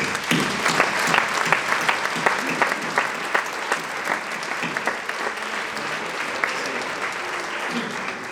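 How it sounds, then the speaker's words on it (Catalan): An audience at the opening proclamation of the Fira de la Candelera fair bursts into sustained applause, dense and steady claps filling the hall at close range, with some voices mixed in underneath. "Un aplaudiment per recordar-nos"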